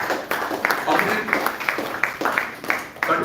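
An audience claps to welcome a contestant at a college competition event, a steady patter of applause with distinct individual claps, moderately loud, and a voice speaking over it.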